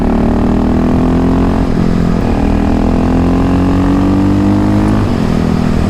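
A Kawasaki KLX351 or KTM 625SMC motorcycle pulling hard on the throttle out of twisty corners, the engine loud and close with a steady droning note that rises through the revs and shifts pitch near the end.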